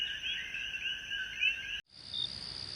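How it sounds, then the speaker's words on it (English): A misty swamp resounds with a dense, continuous chorus of croaking frogs and trilling, steady and fairly soft, cutting off abruptly before a thinner chorus resumes. "Frogs croak in the distance."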